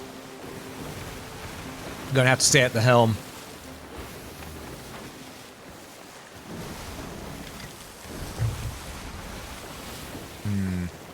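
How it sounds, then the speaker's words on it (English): Ocean waves rolling and pushing against a sailing ship at sea in Sea of Thieves, a steady low wash of surf and wind, with someone talking briefly over it. "These waves really are pushing us"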